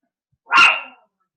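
A single sharp dog bark, close and loud, standing alone against silence.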